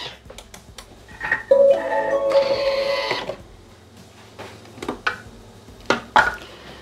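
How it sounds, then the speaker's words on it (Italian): A Bimby Thermomix TM6 food processor runs in reverse at soft speed while heating risotto, giving a steady mechanical whir with a whine, ringed by clinks and ticks of the bowl and lid. "azionare il bimbi per 1 minuto, 100 gradi, antiorario, velocità soft"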